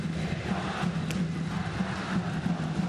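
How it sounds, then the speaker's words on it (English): Crowd at a World Baseball Classic game between the Netherlands and Chinese Taipei, a steady wash of cheering and roaring from a packed stadium as the batter steps up, distant and continuous. "The crowd came to its feet when he strode to the plate to make this noise."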